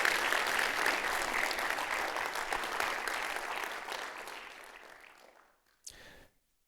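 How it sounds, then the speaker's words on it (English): An audience at a lecture marking the Fred Hollows Foundation's anniversary applauds in a dense round that gradually thins and fades out, followed by a brief burst of a few last claps before silence. "Just please give Gabby Hallows a big round of applause"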